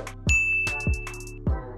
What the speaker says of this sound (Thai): กระดิ่งนี้เนี่ยจะตั้งไว้ตรงที่ทำอาหาร